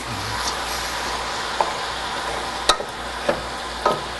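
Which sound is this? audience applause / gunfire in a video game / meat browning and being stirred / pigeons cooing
meat browning and being stirred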